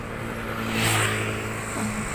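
An angkot minibus passes on a quiet Bandung street, its engine swelling as it draws near and then receding, heard close over steady traffic rumble.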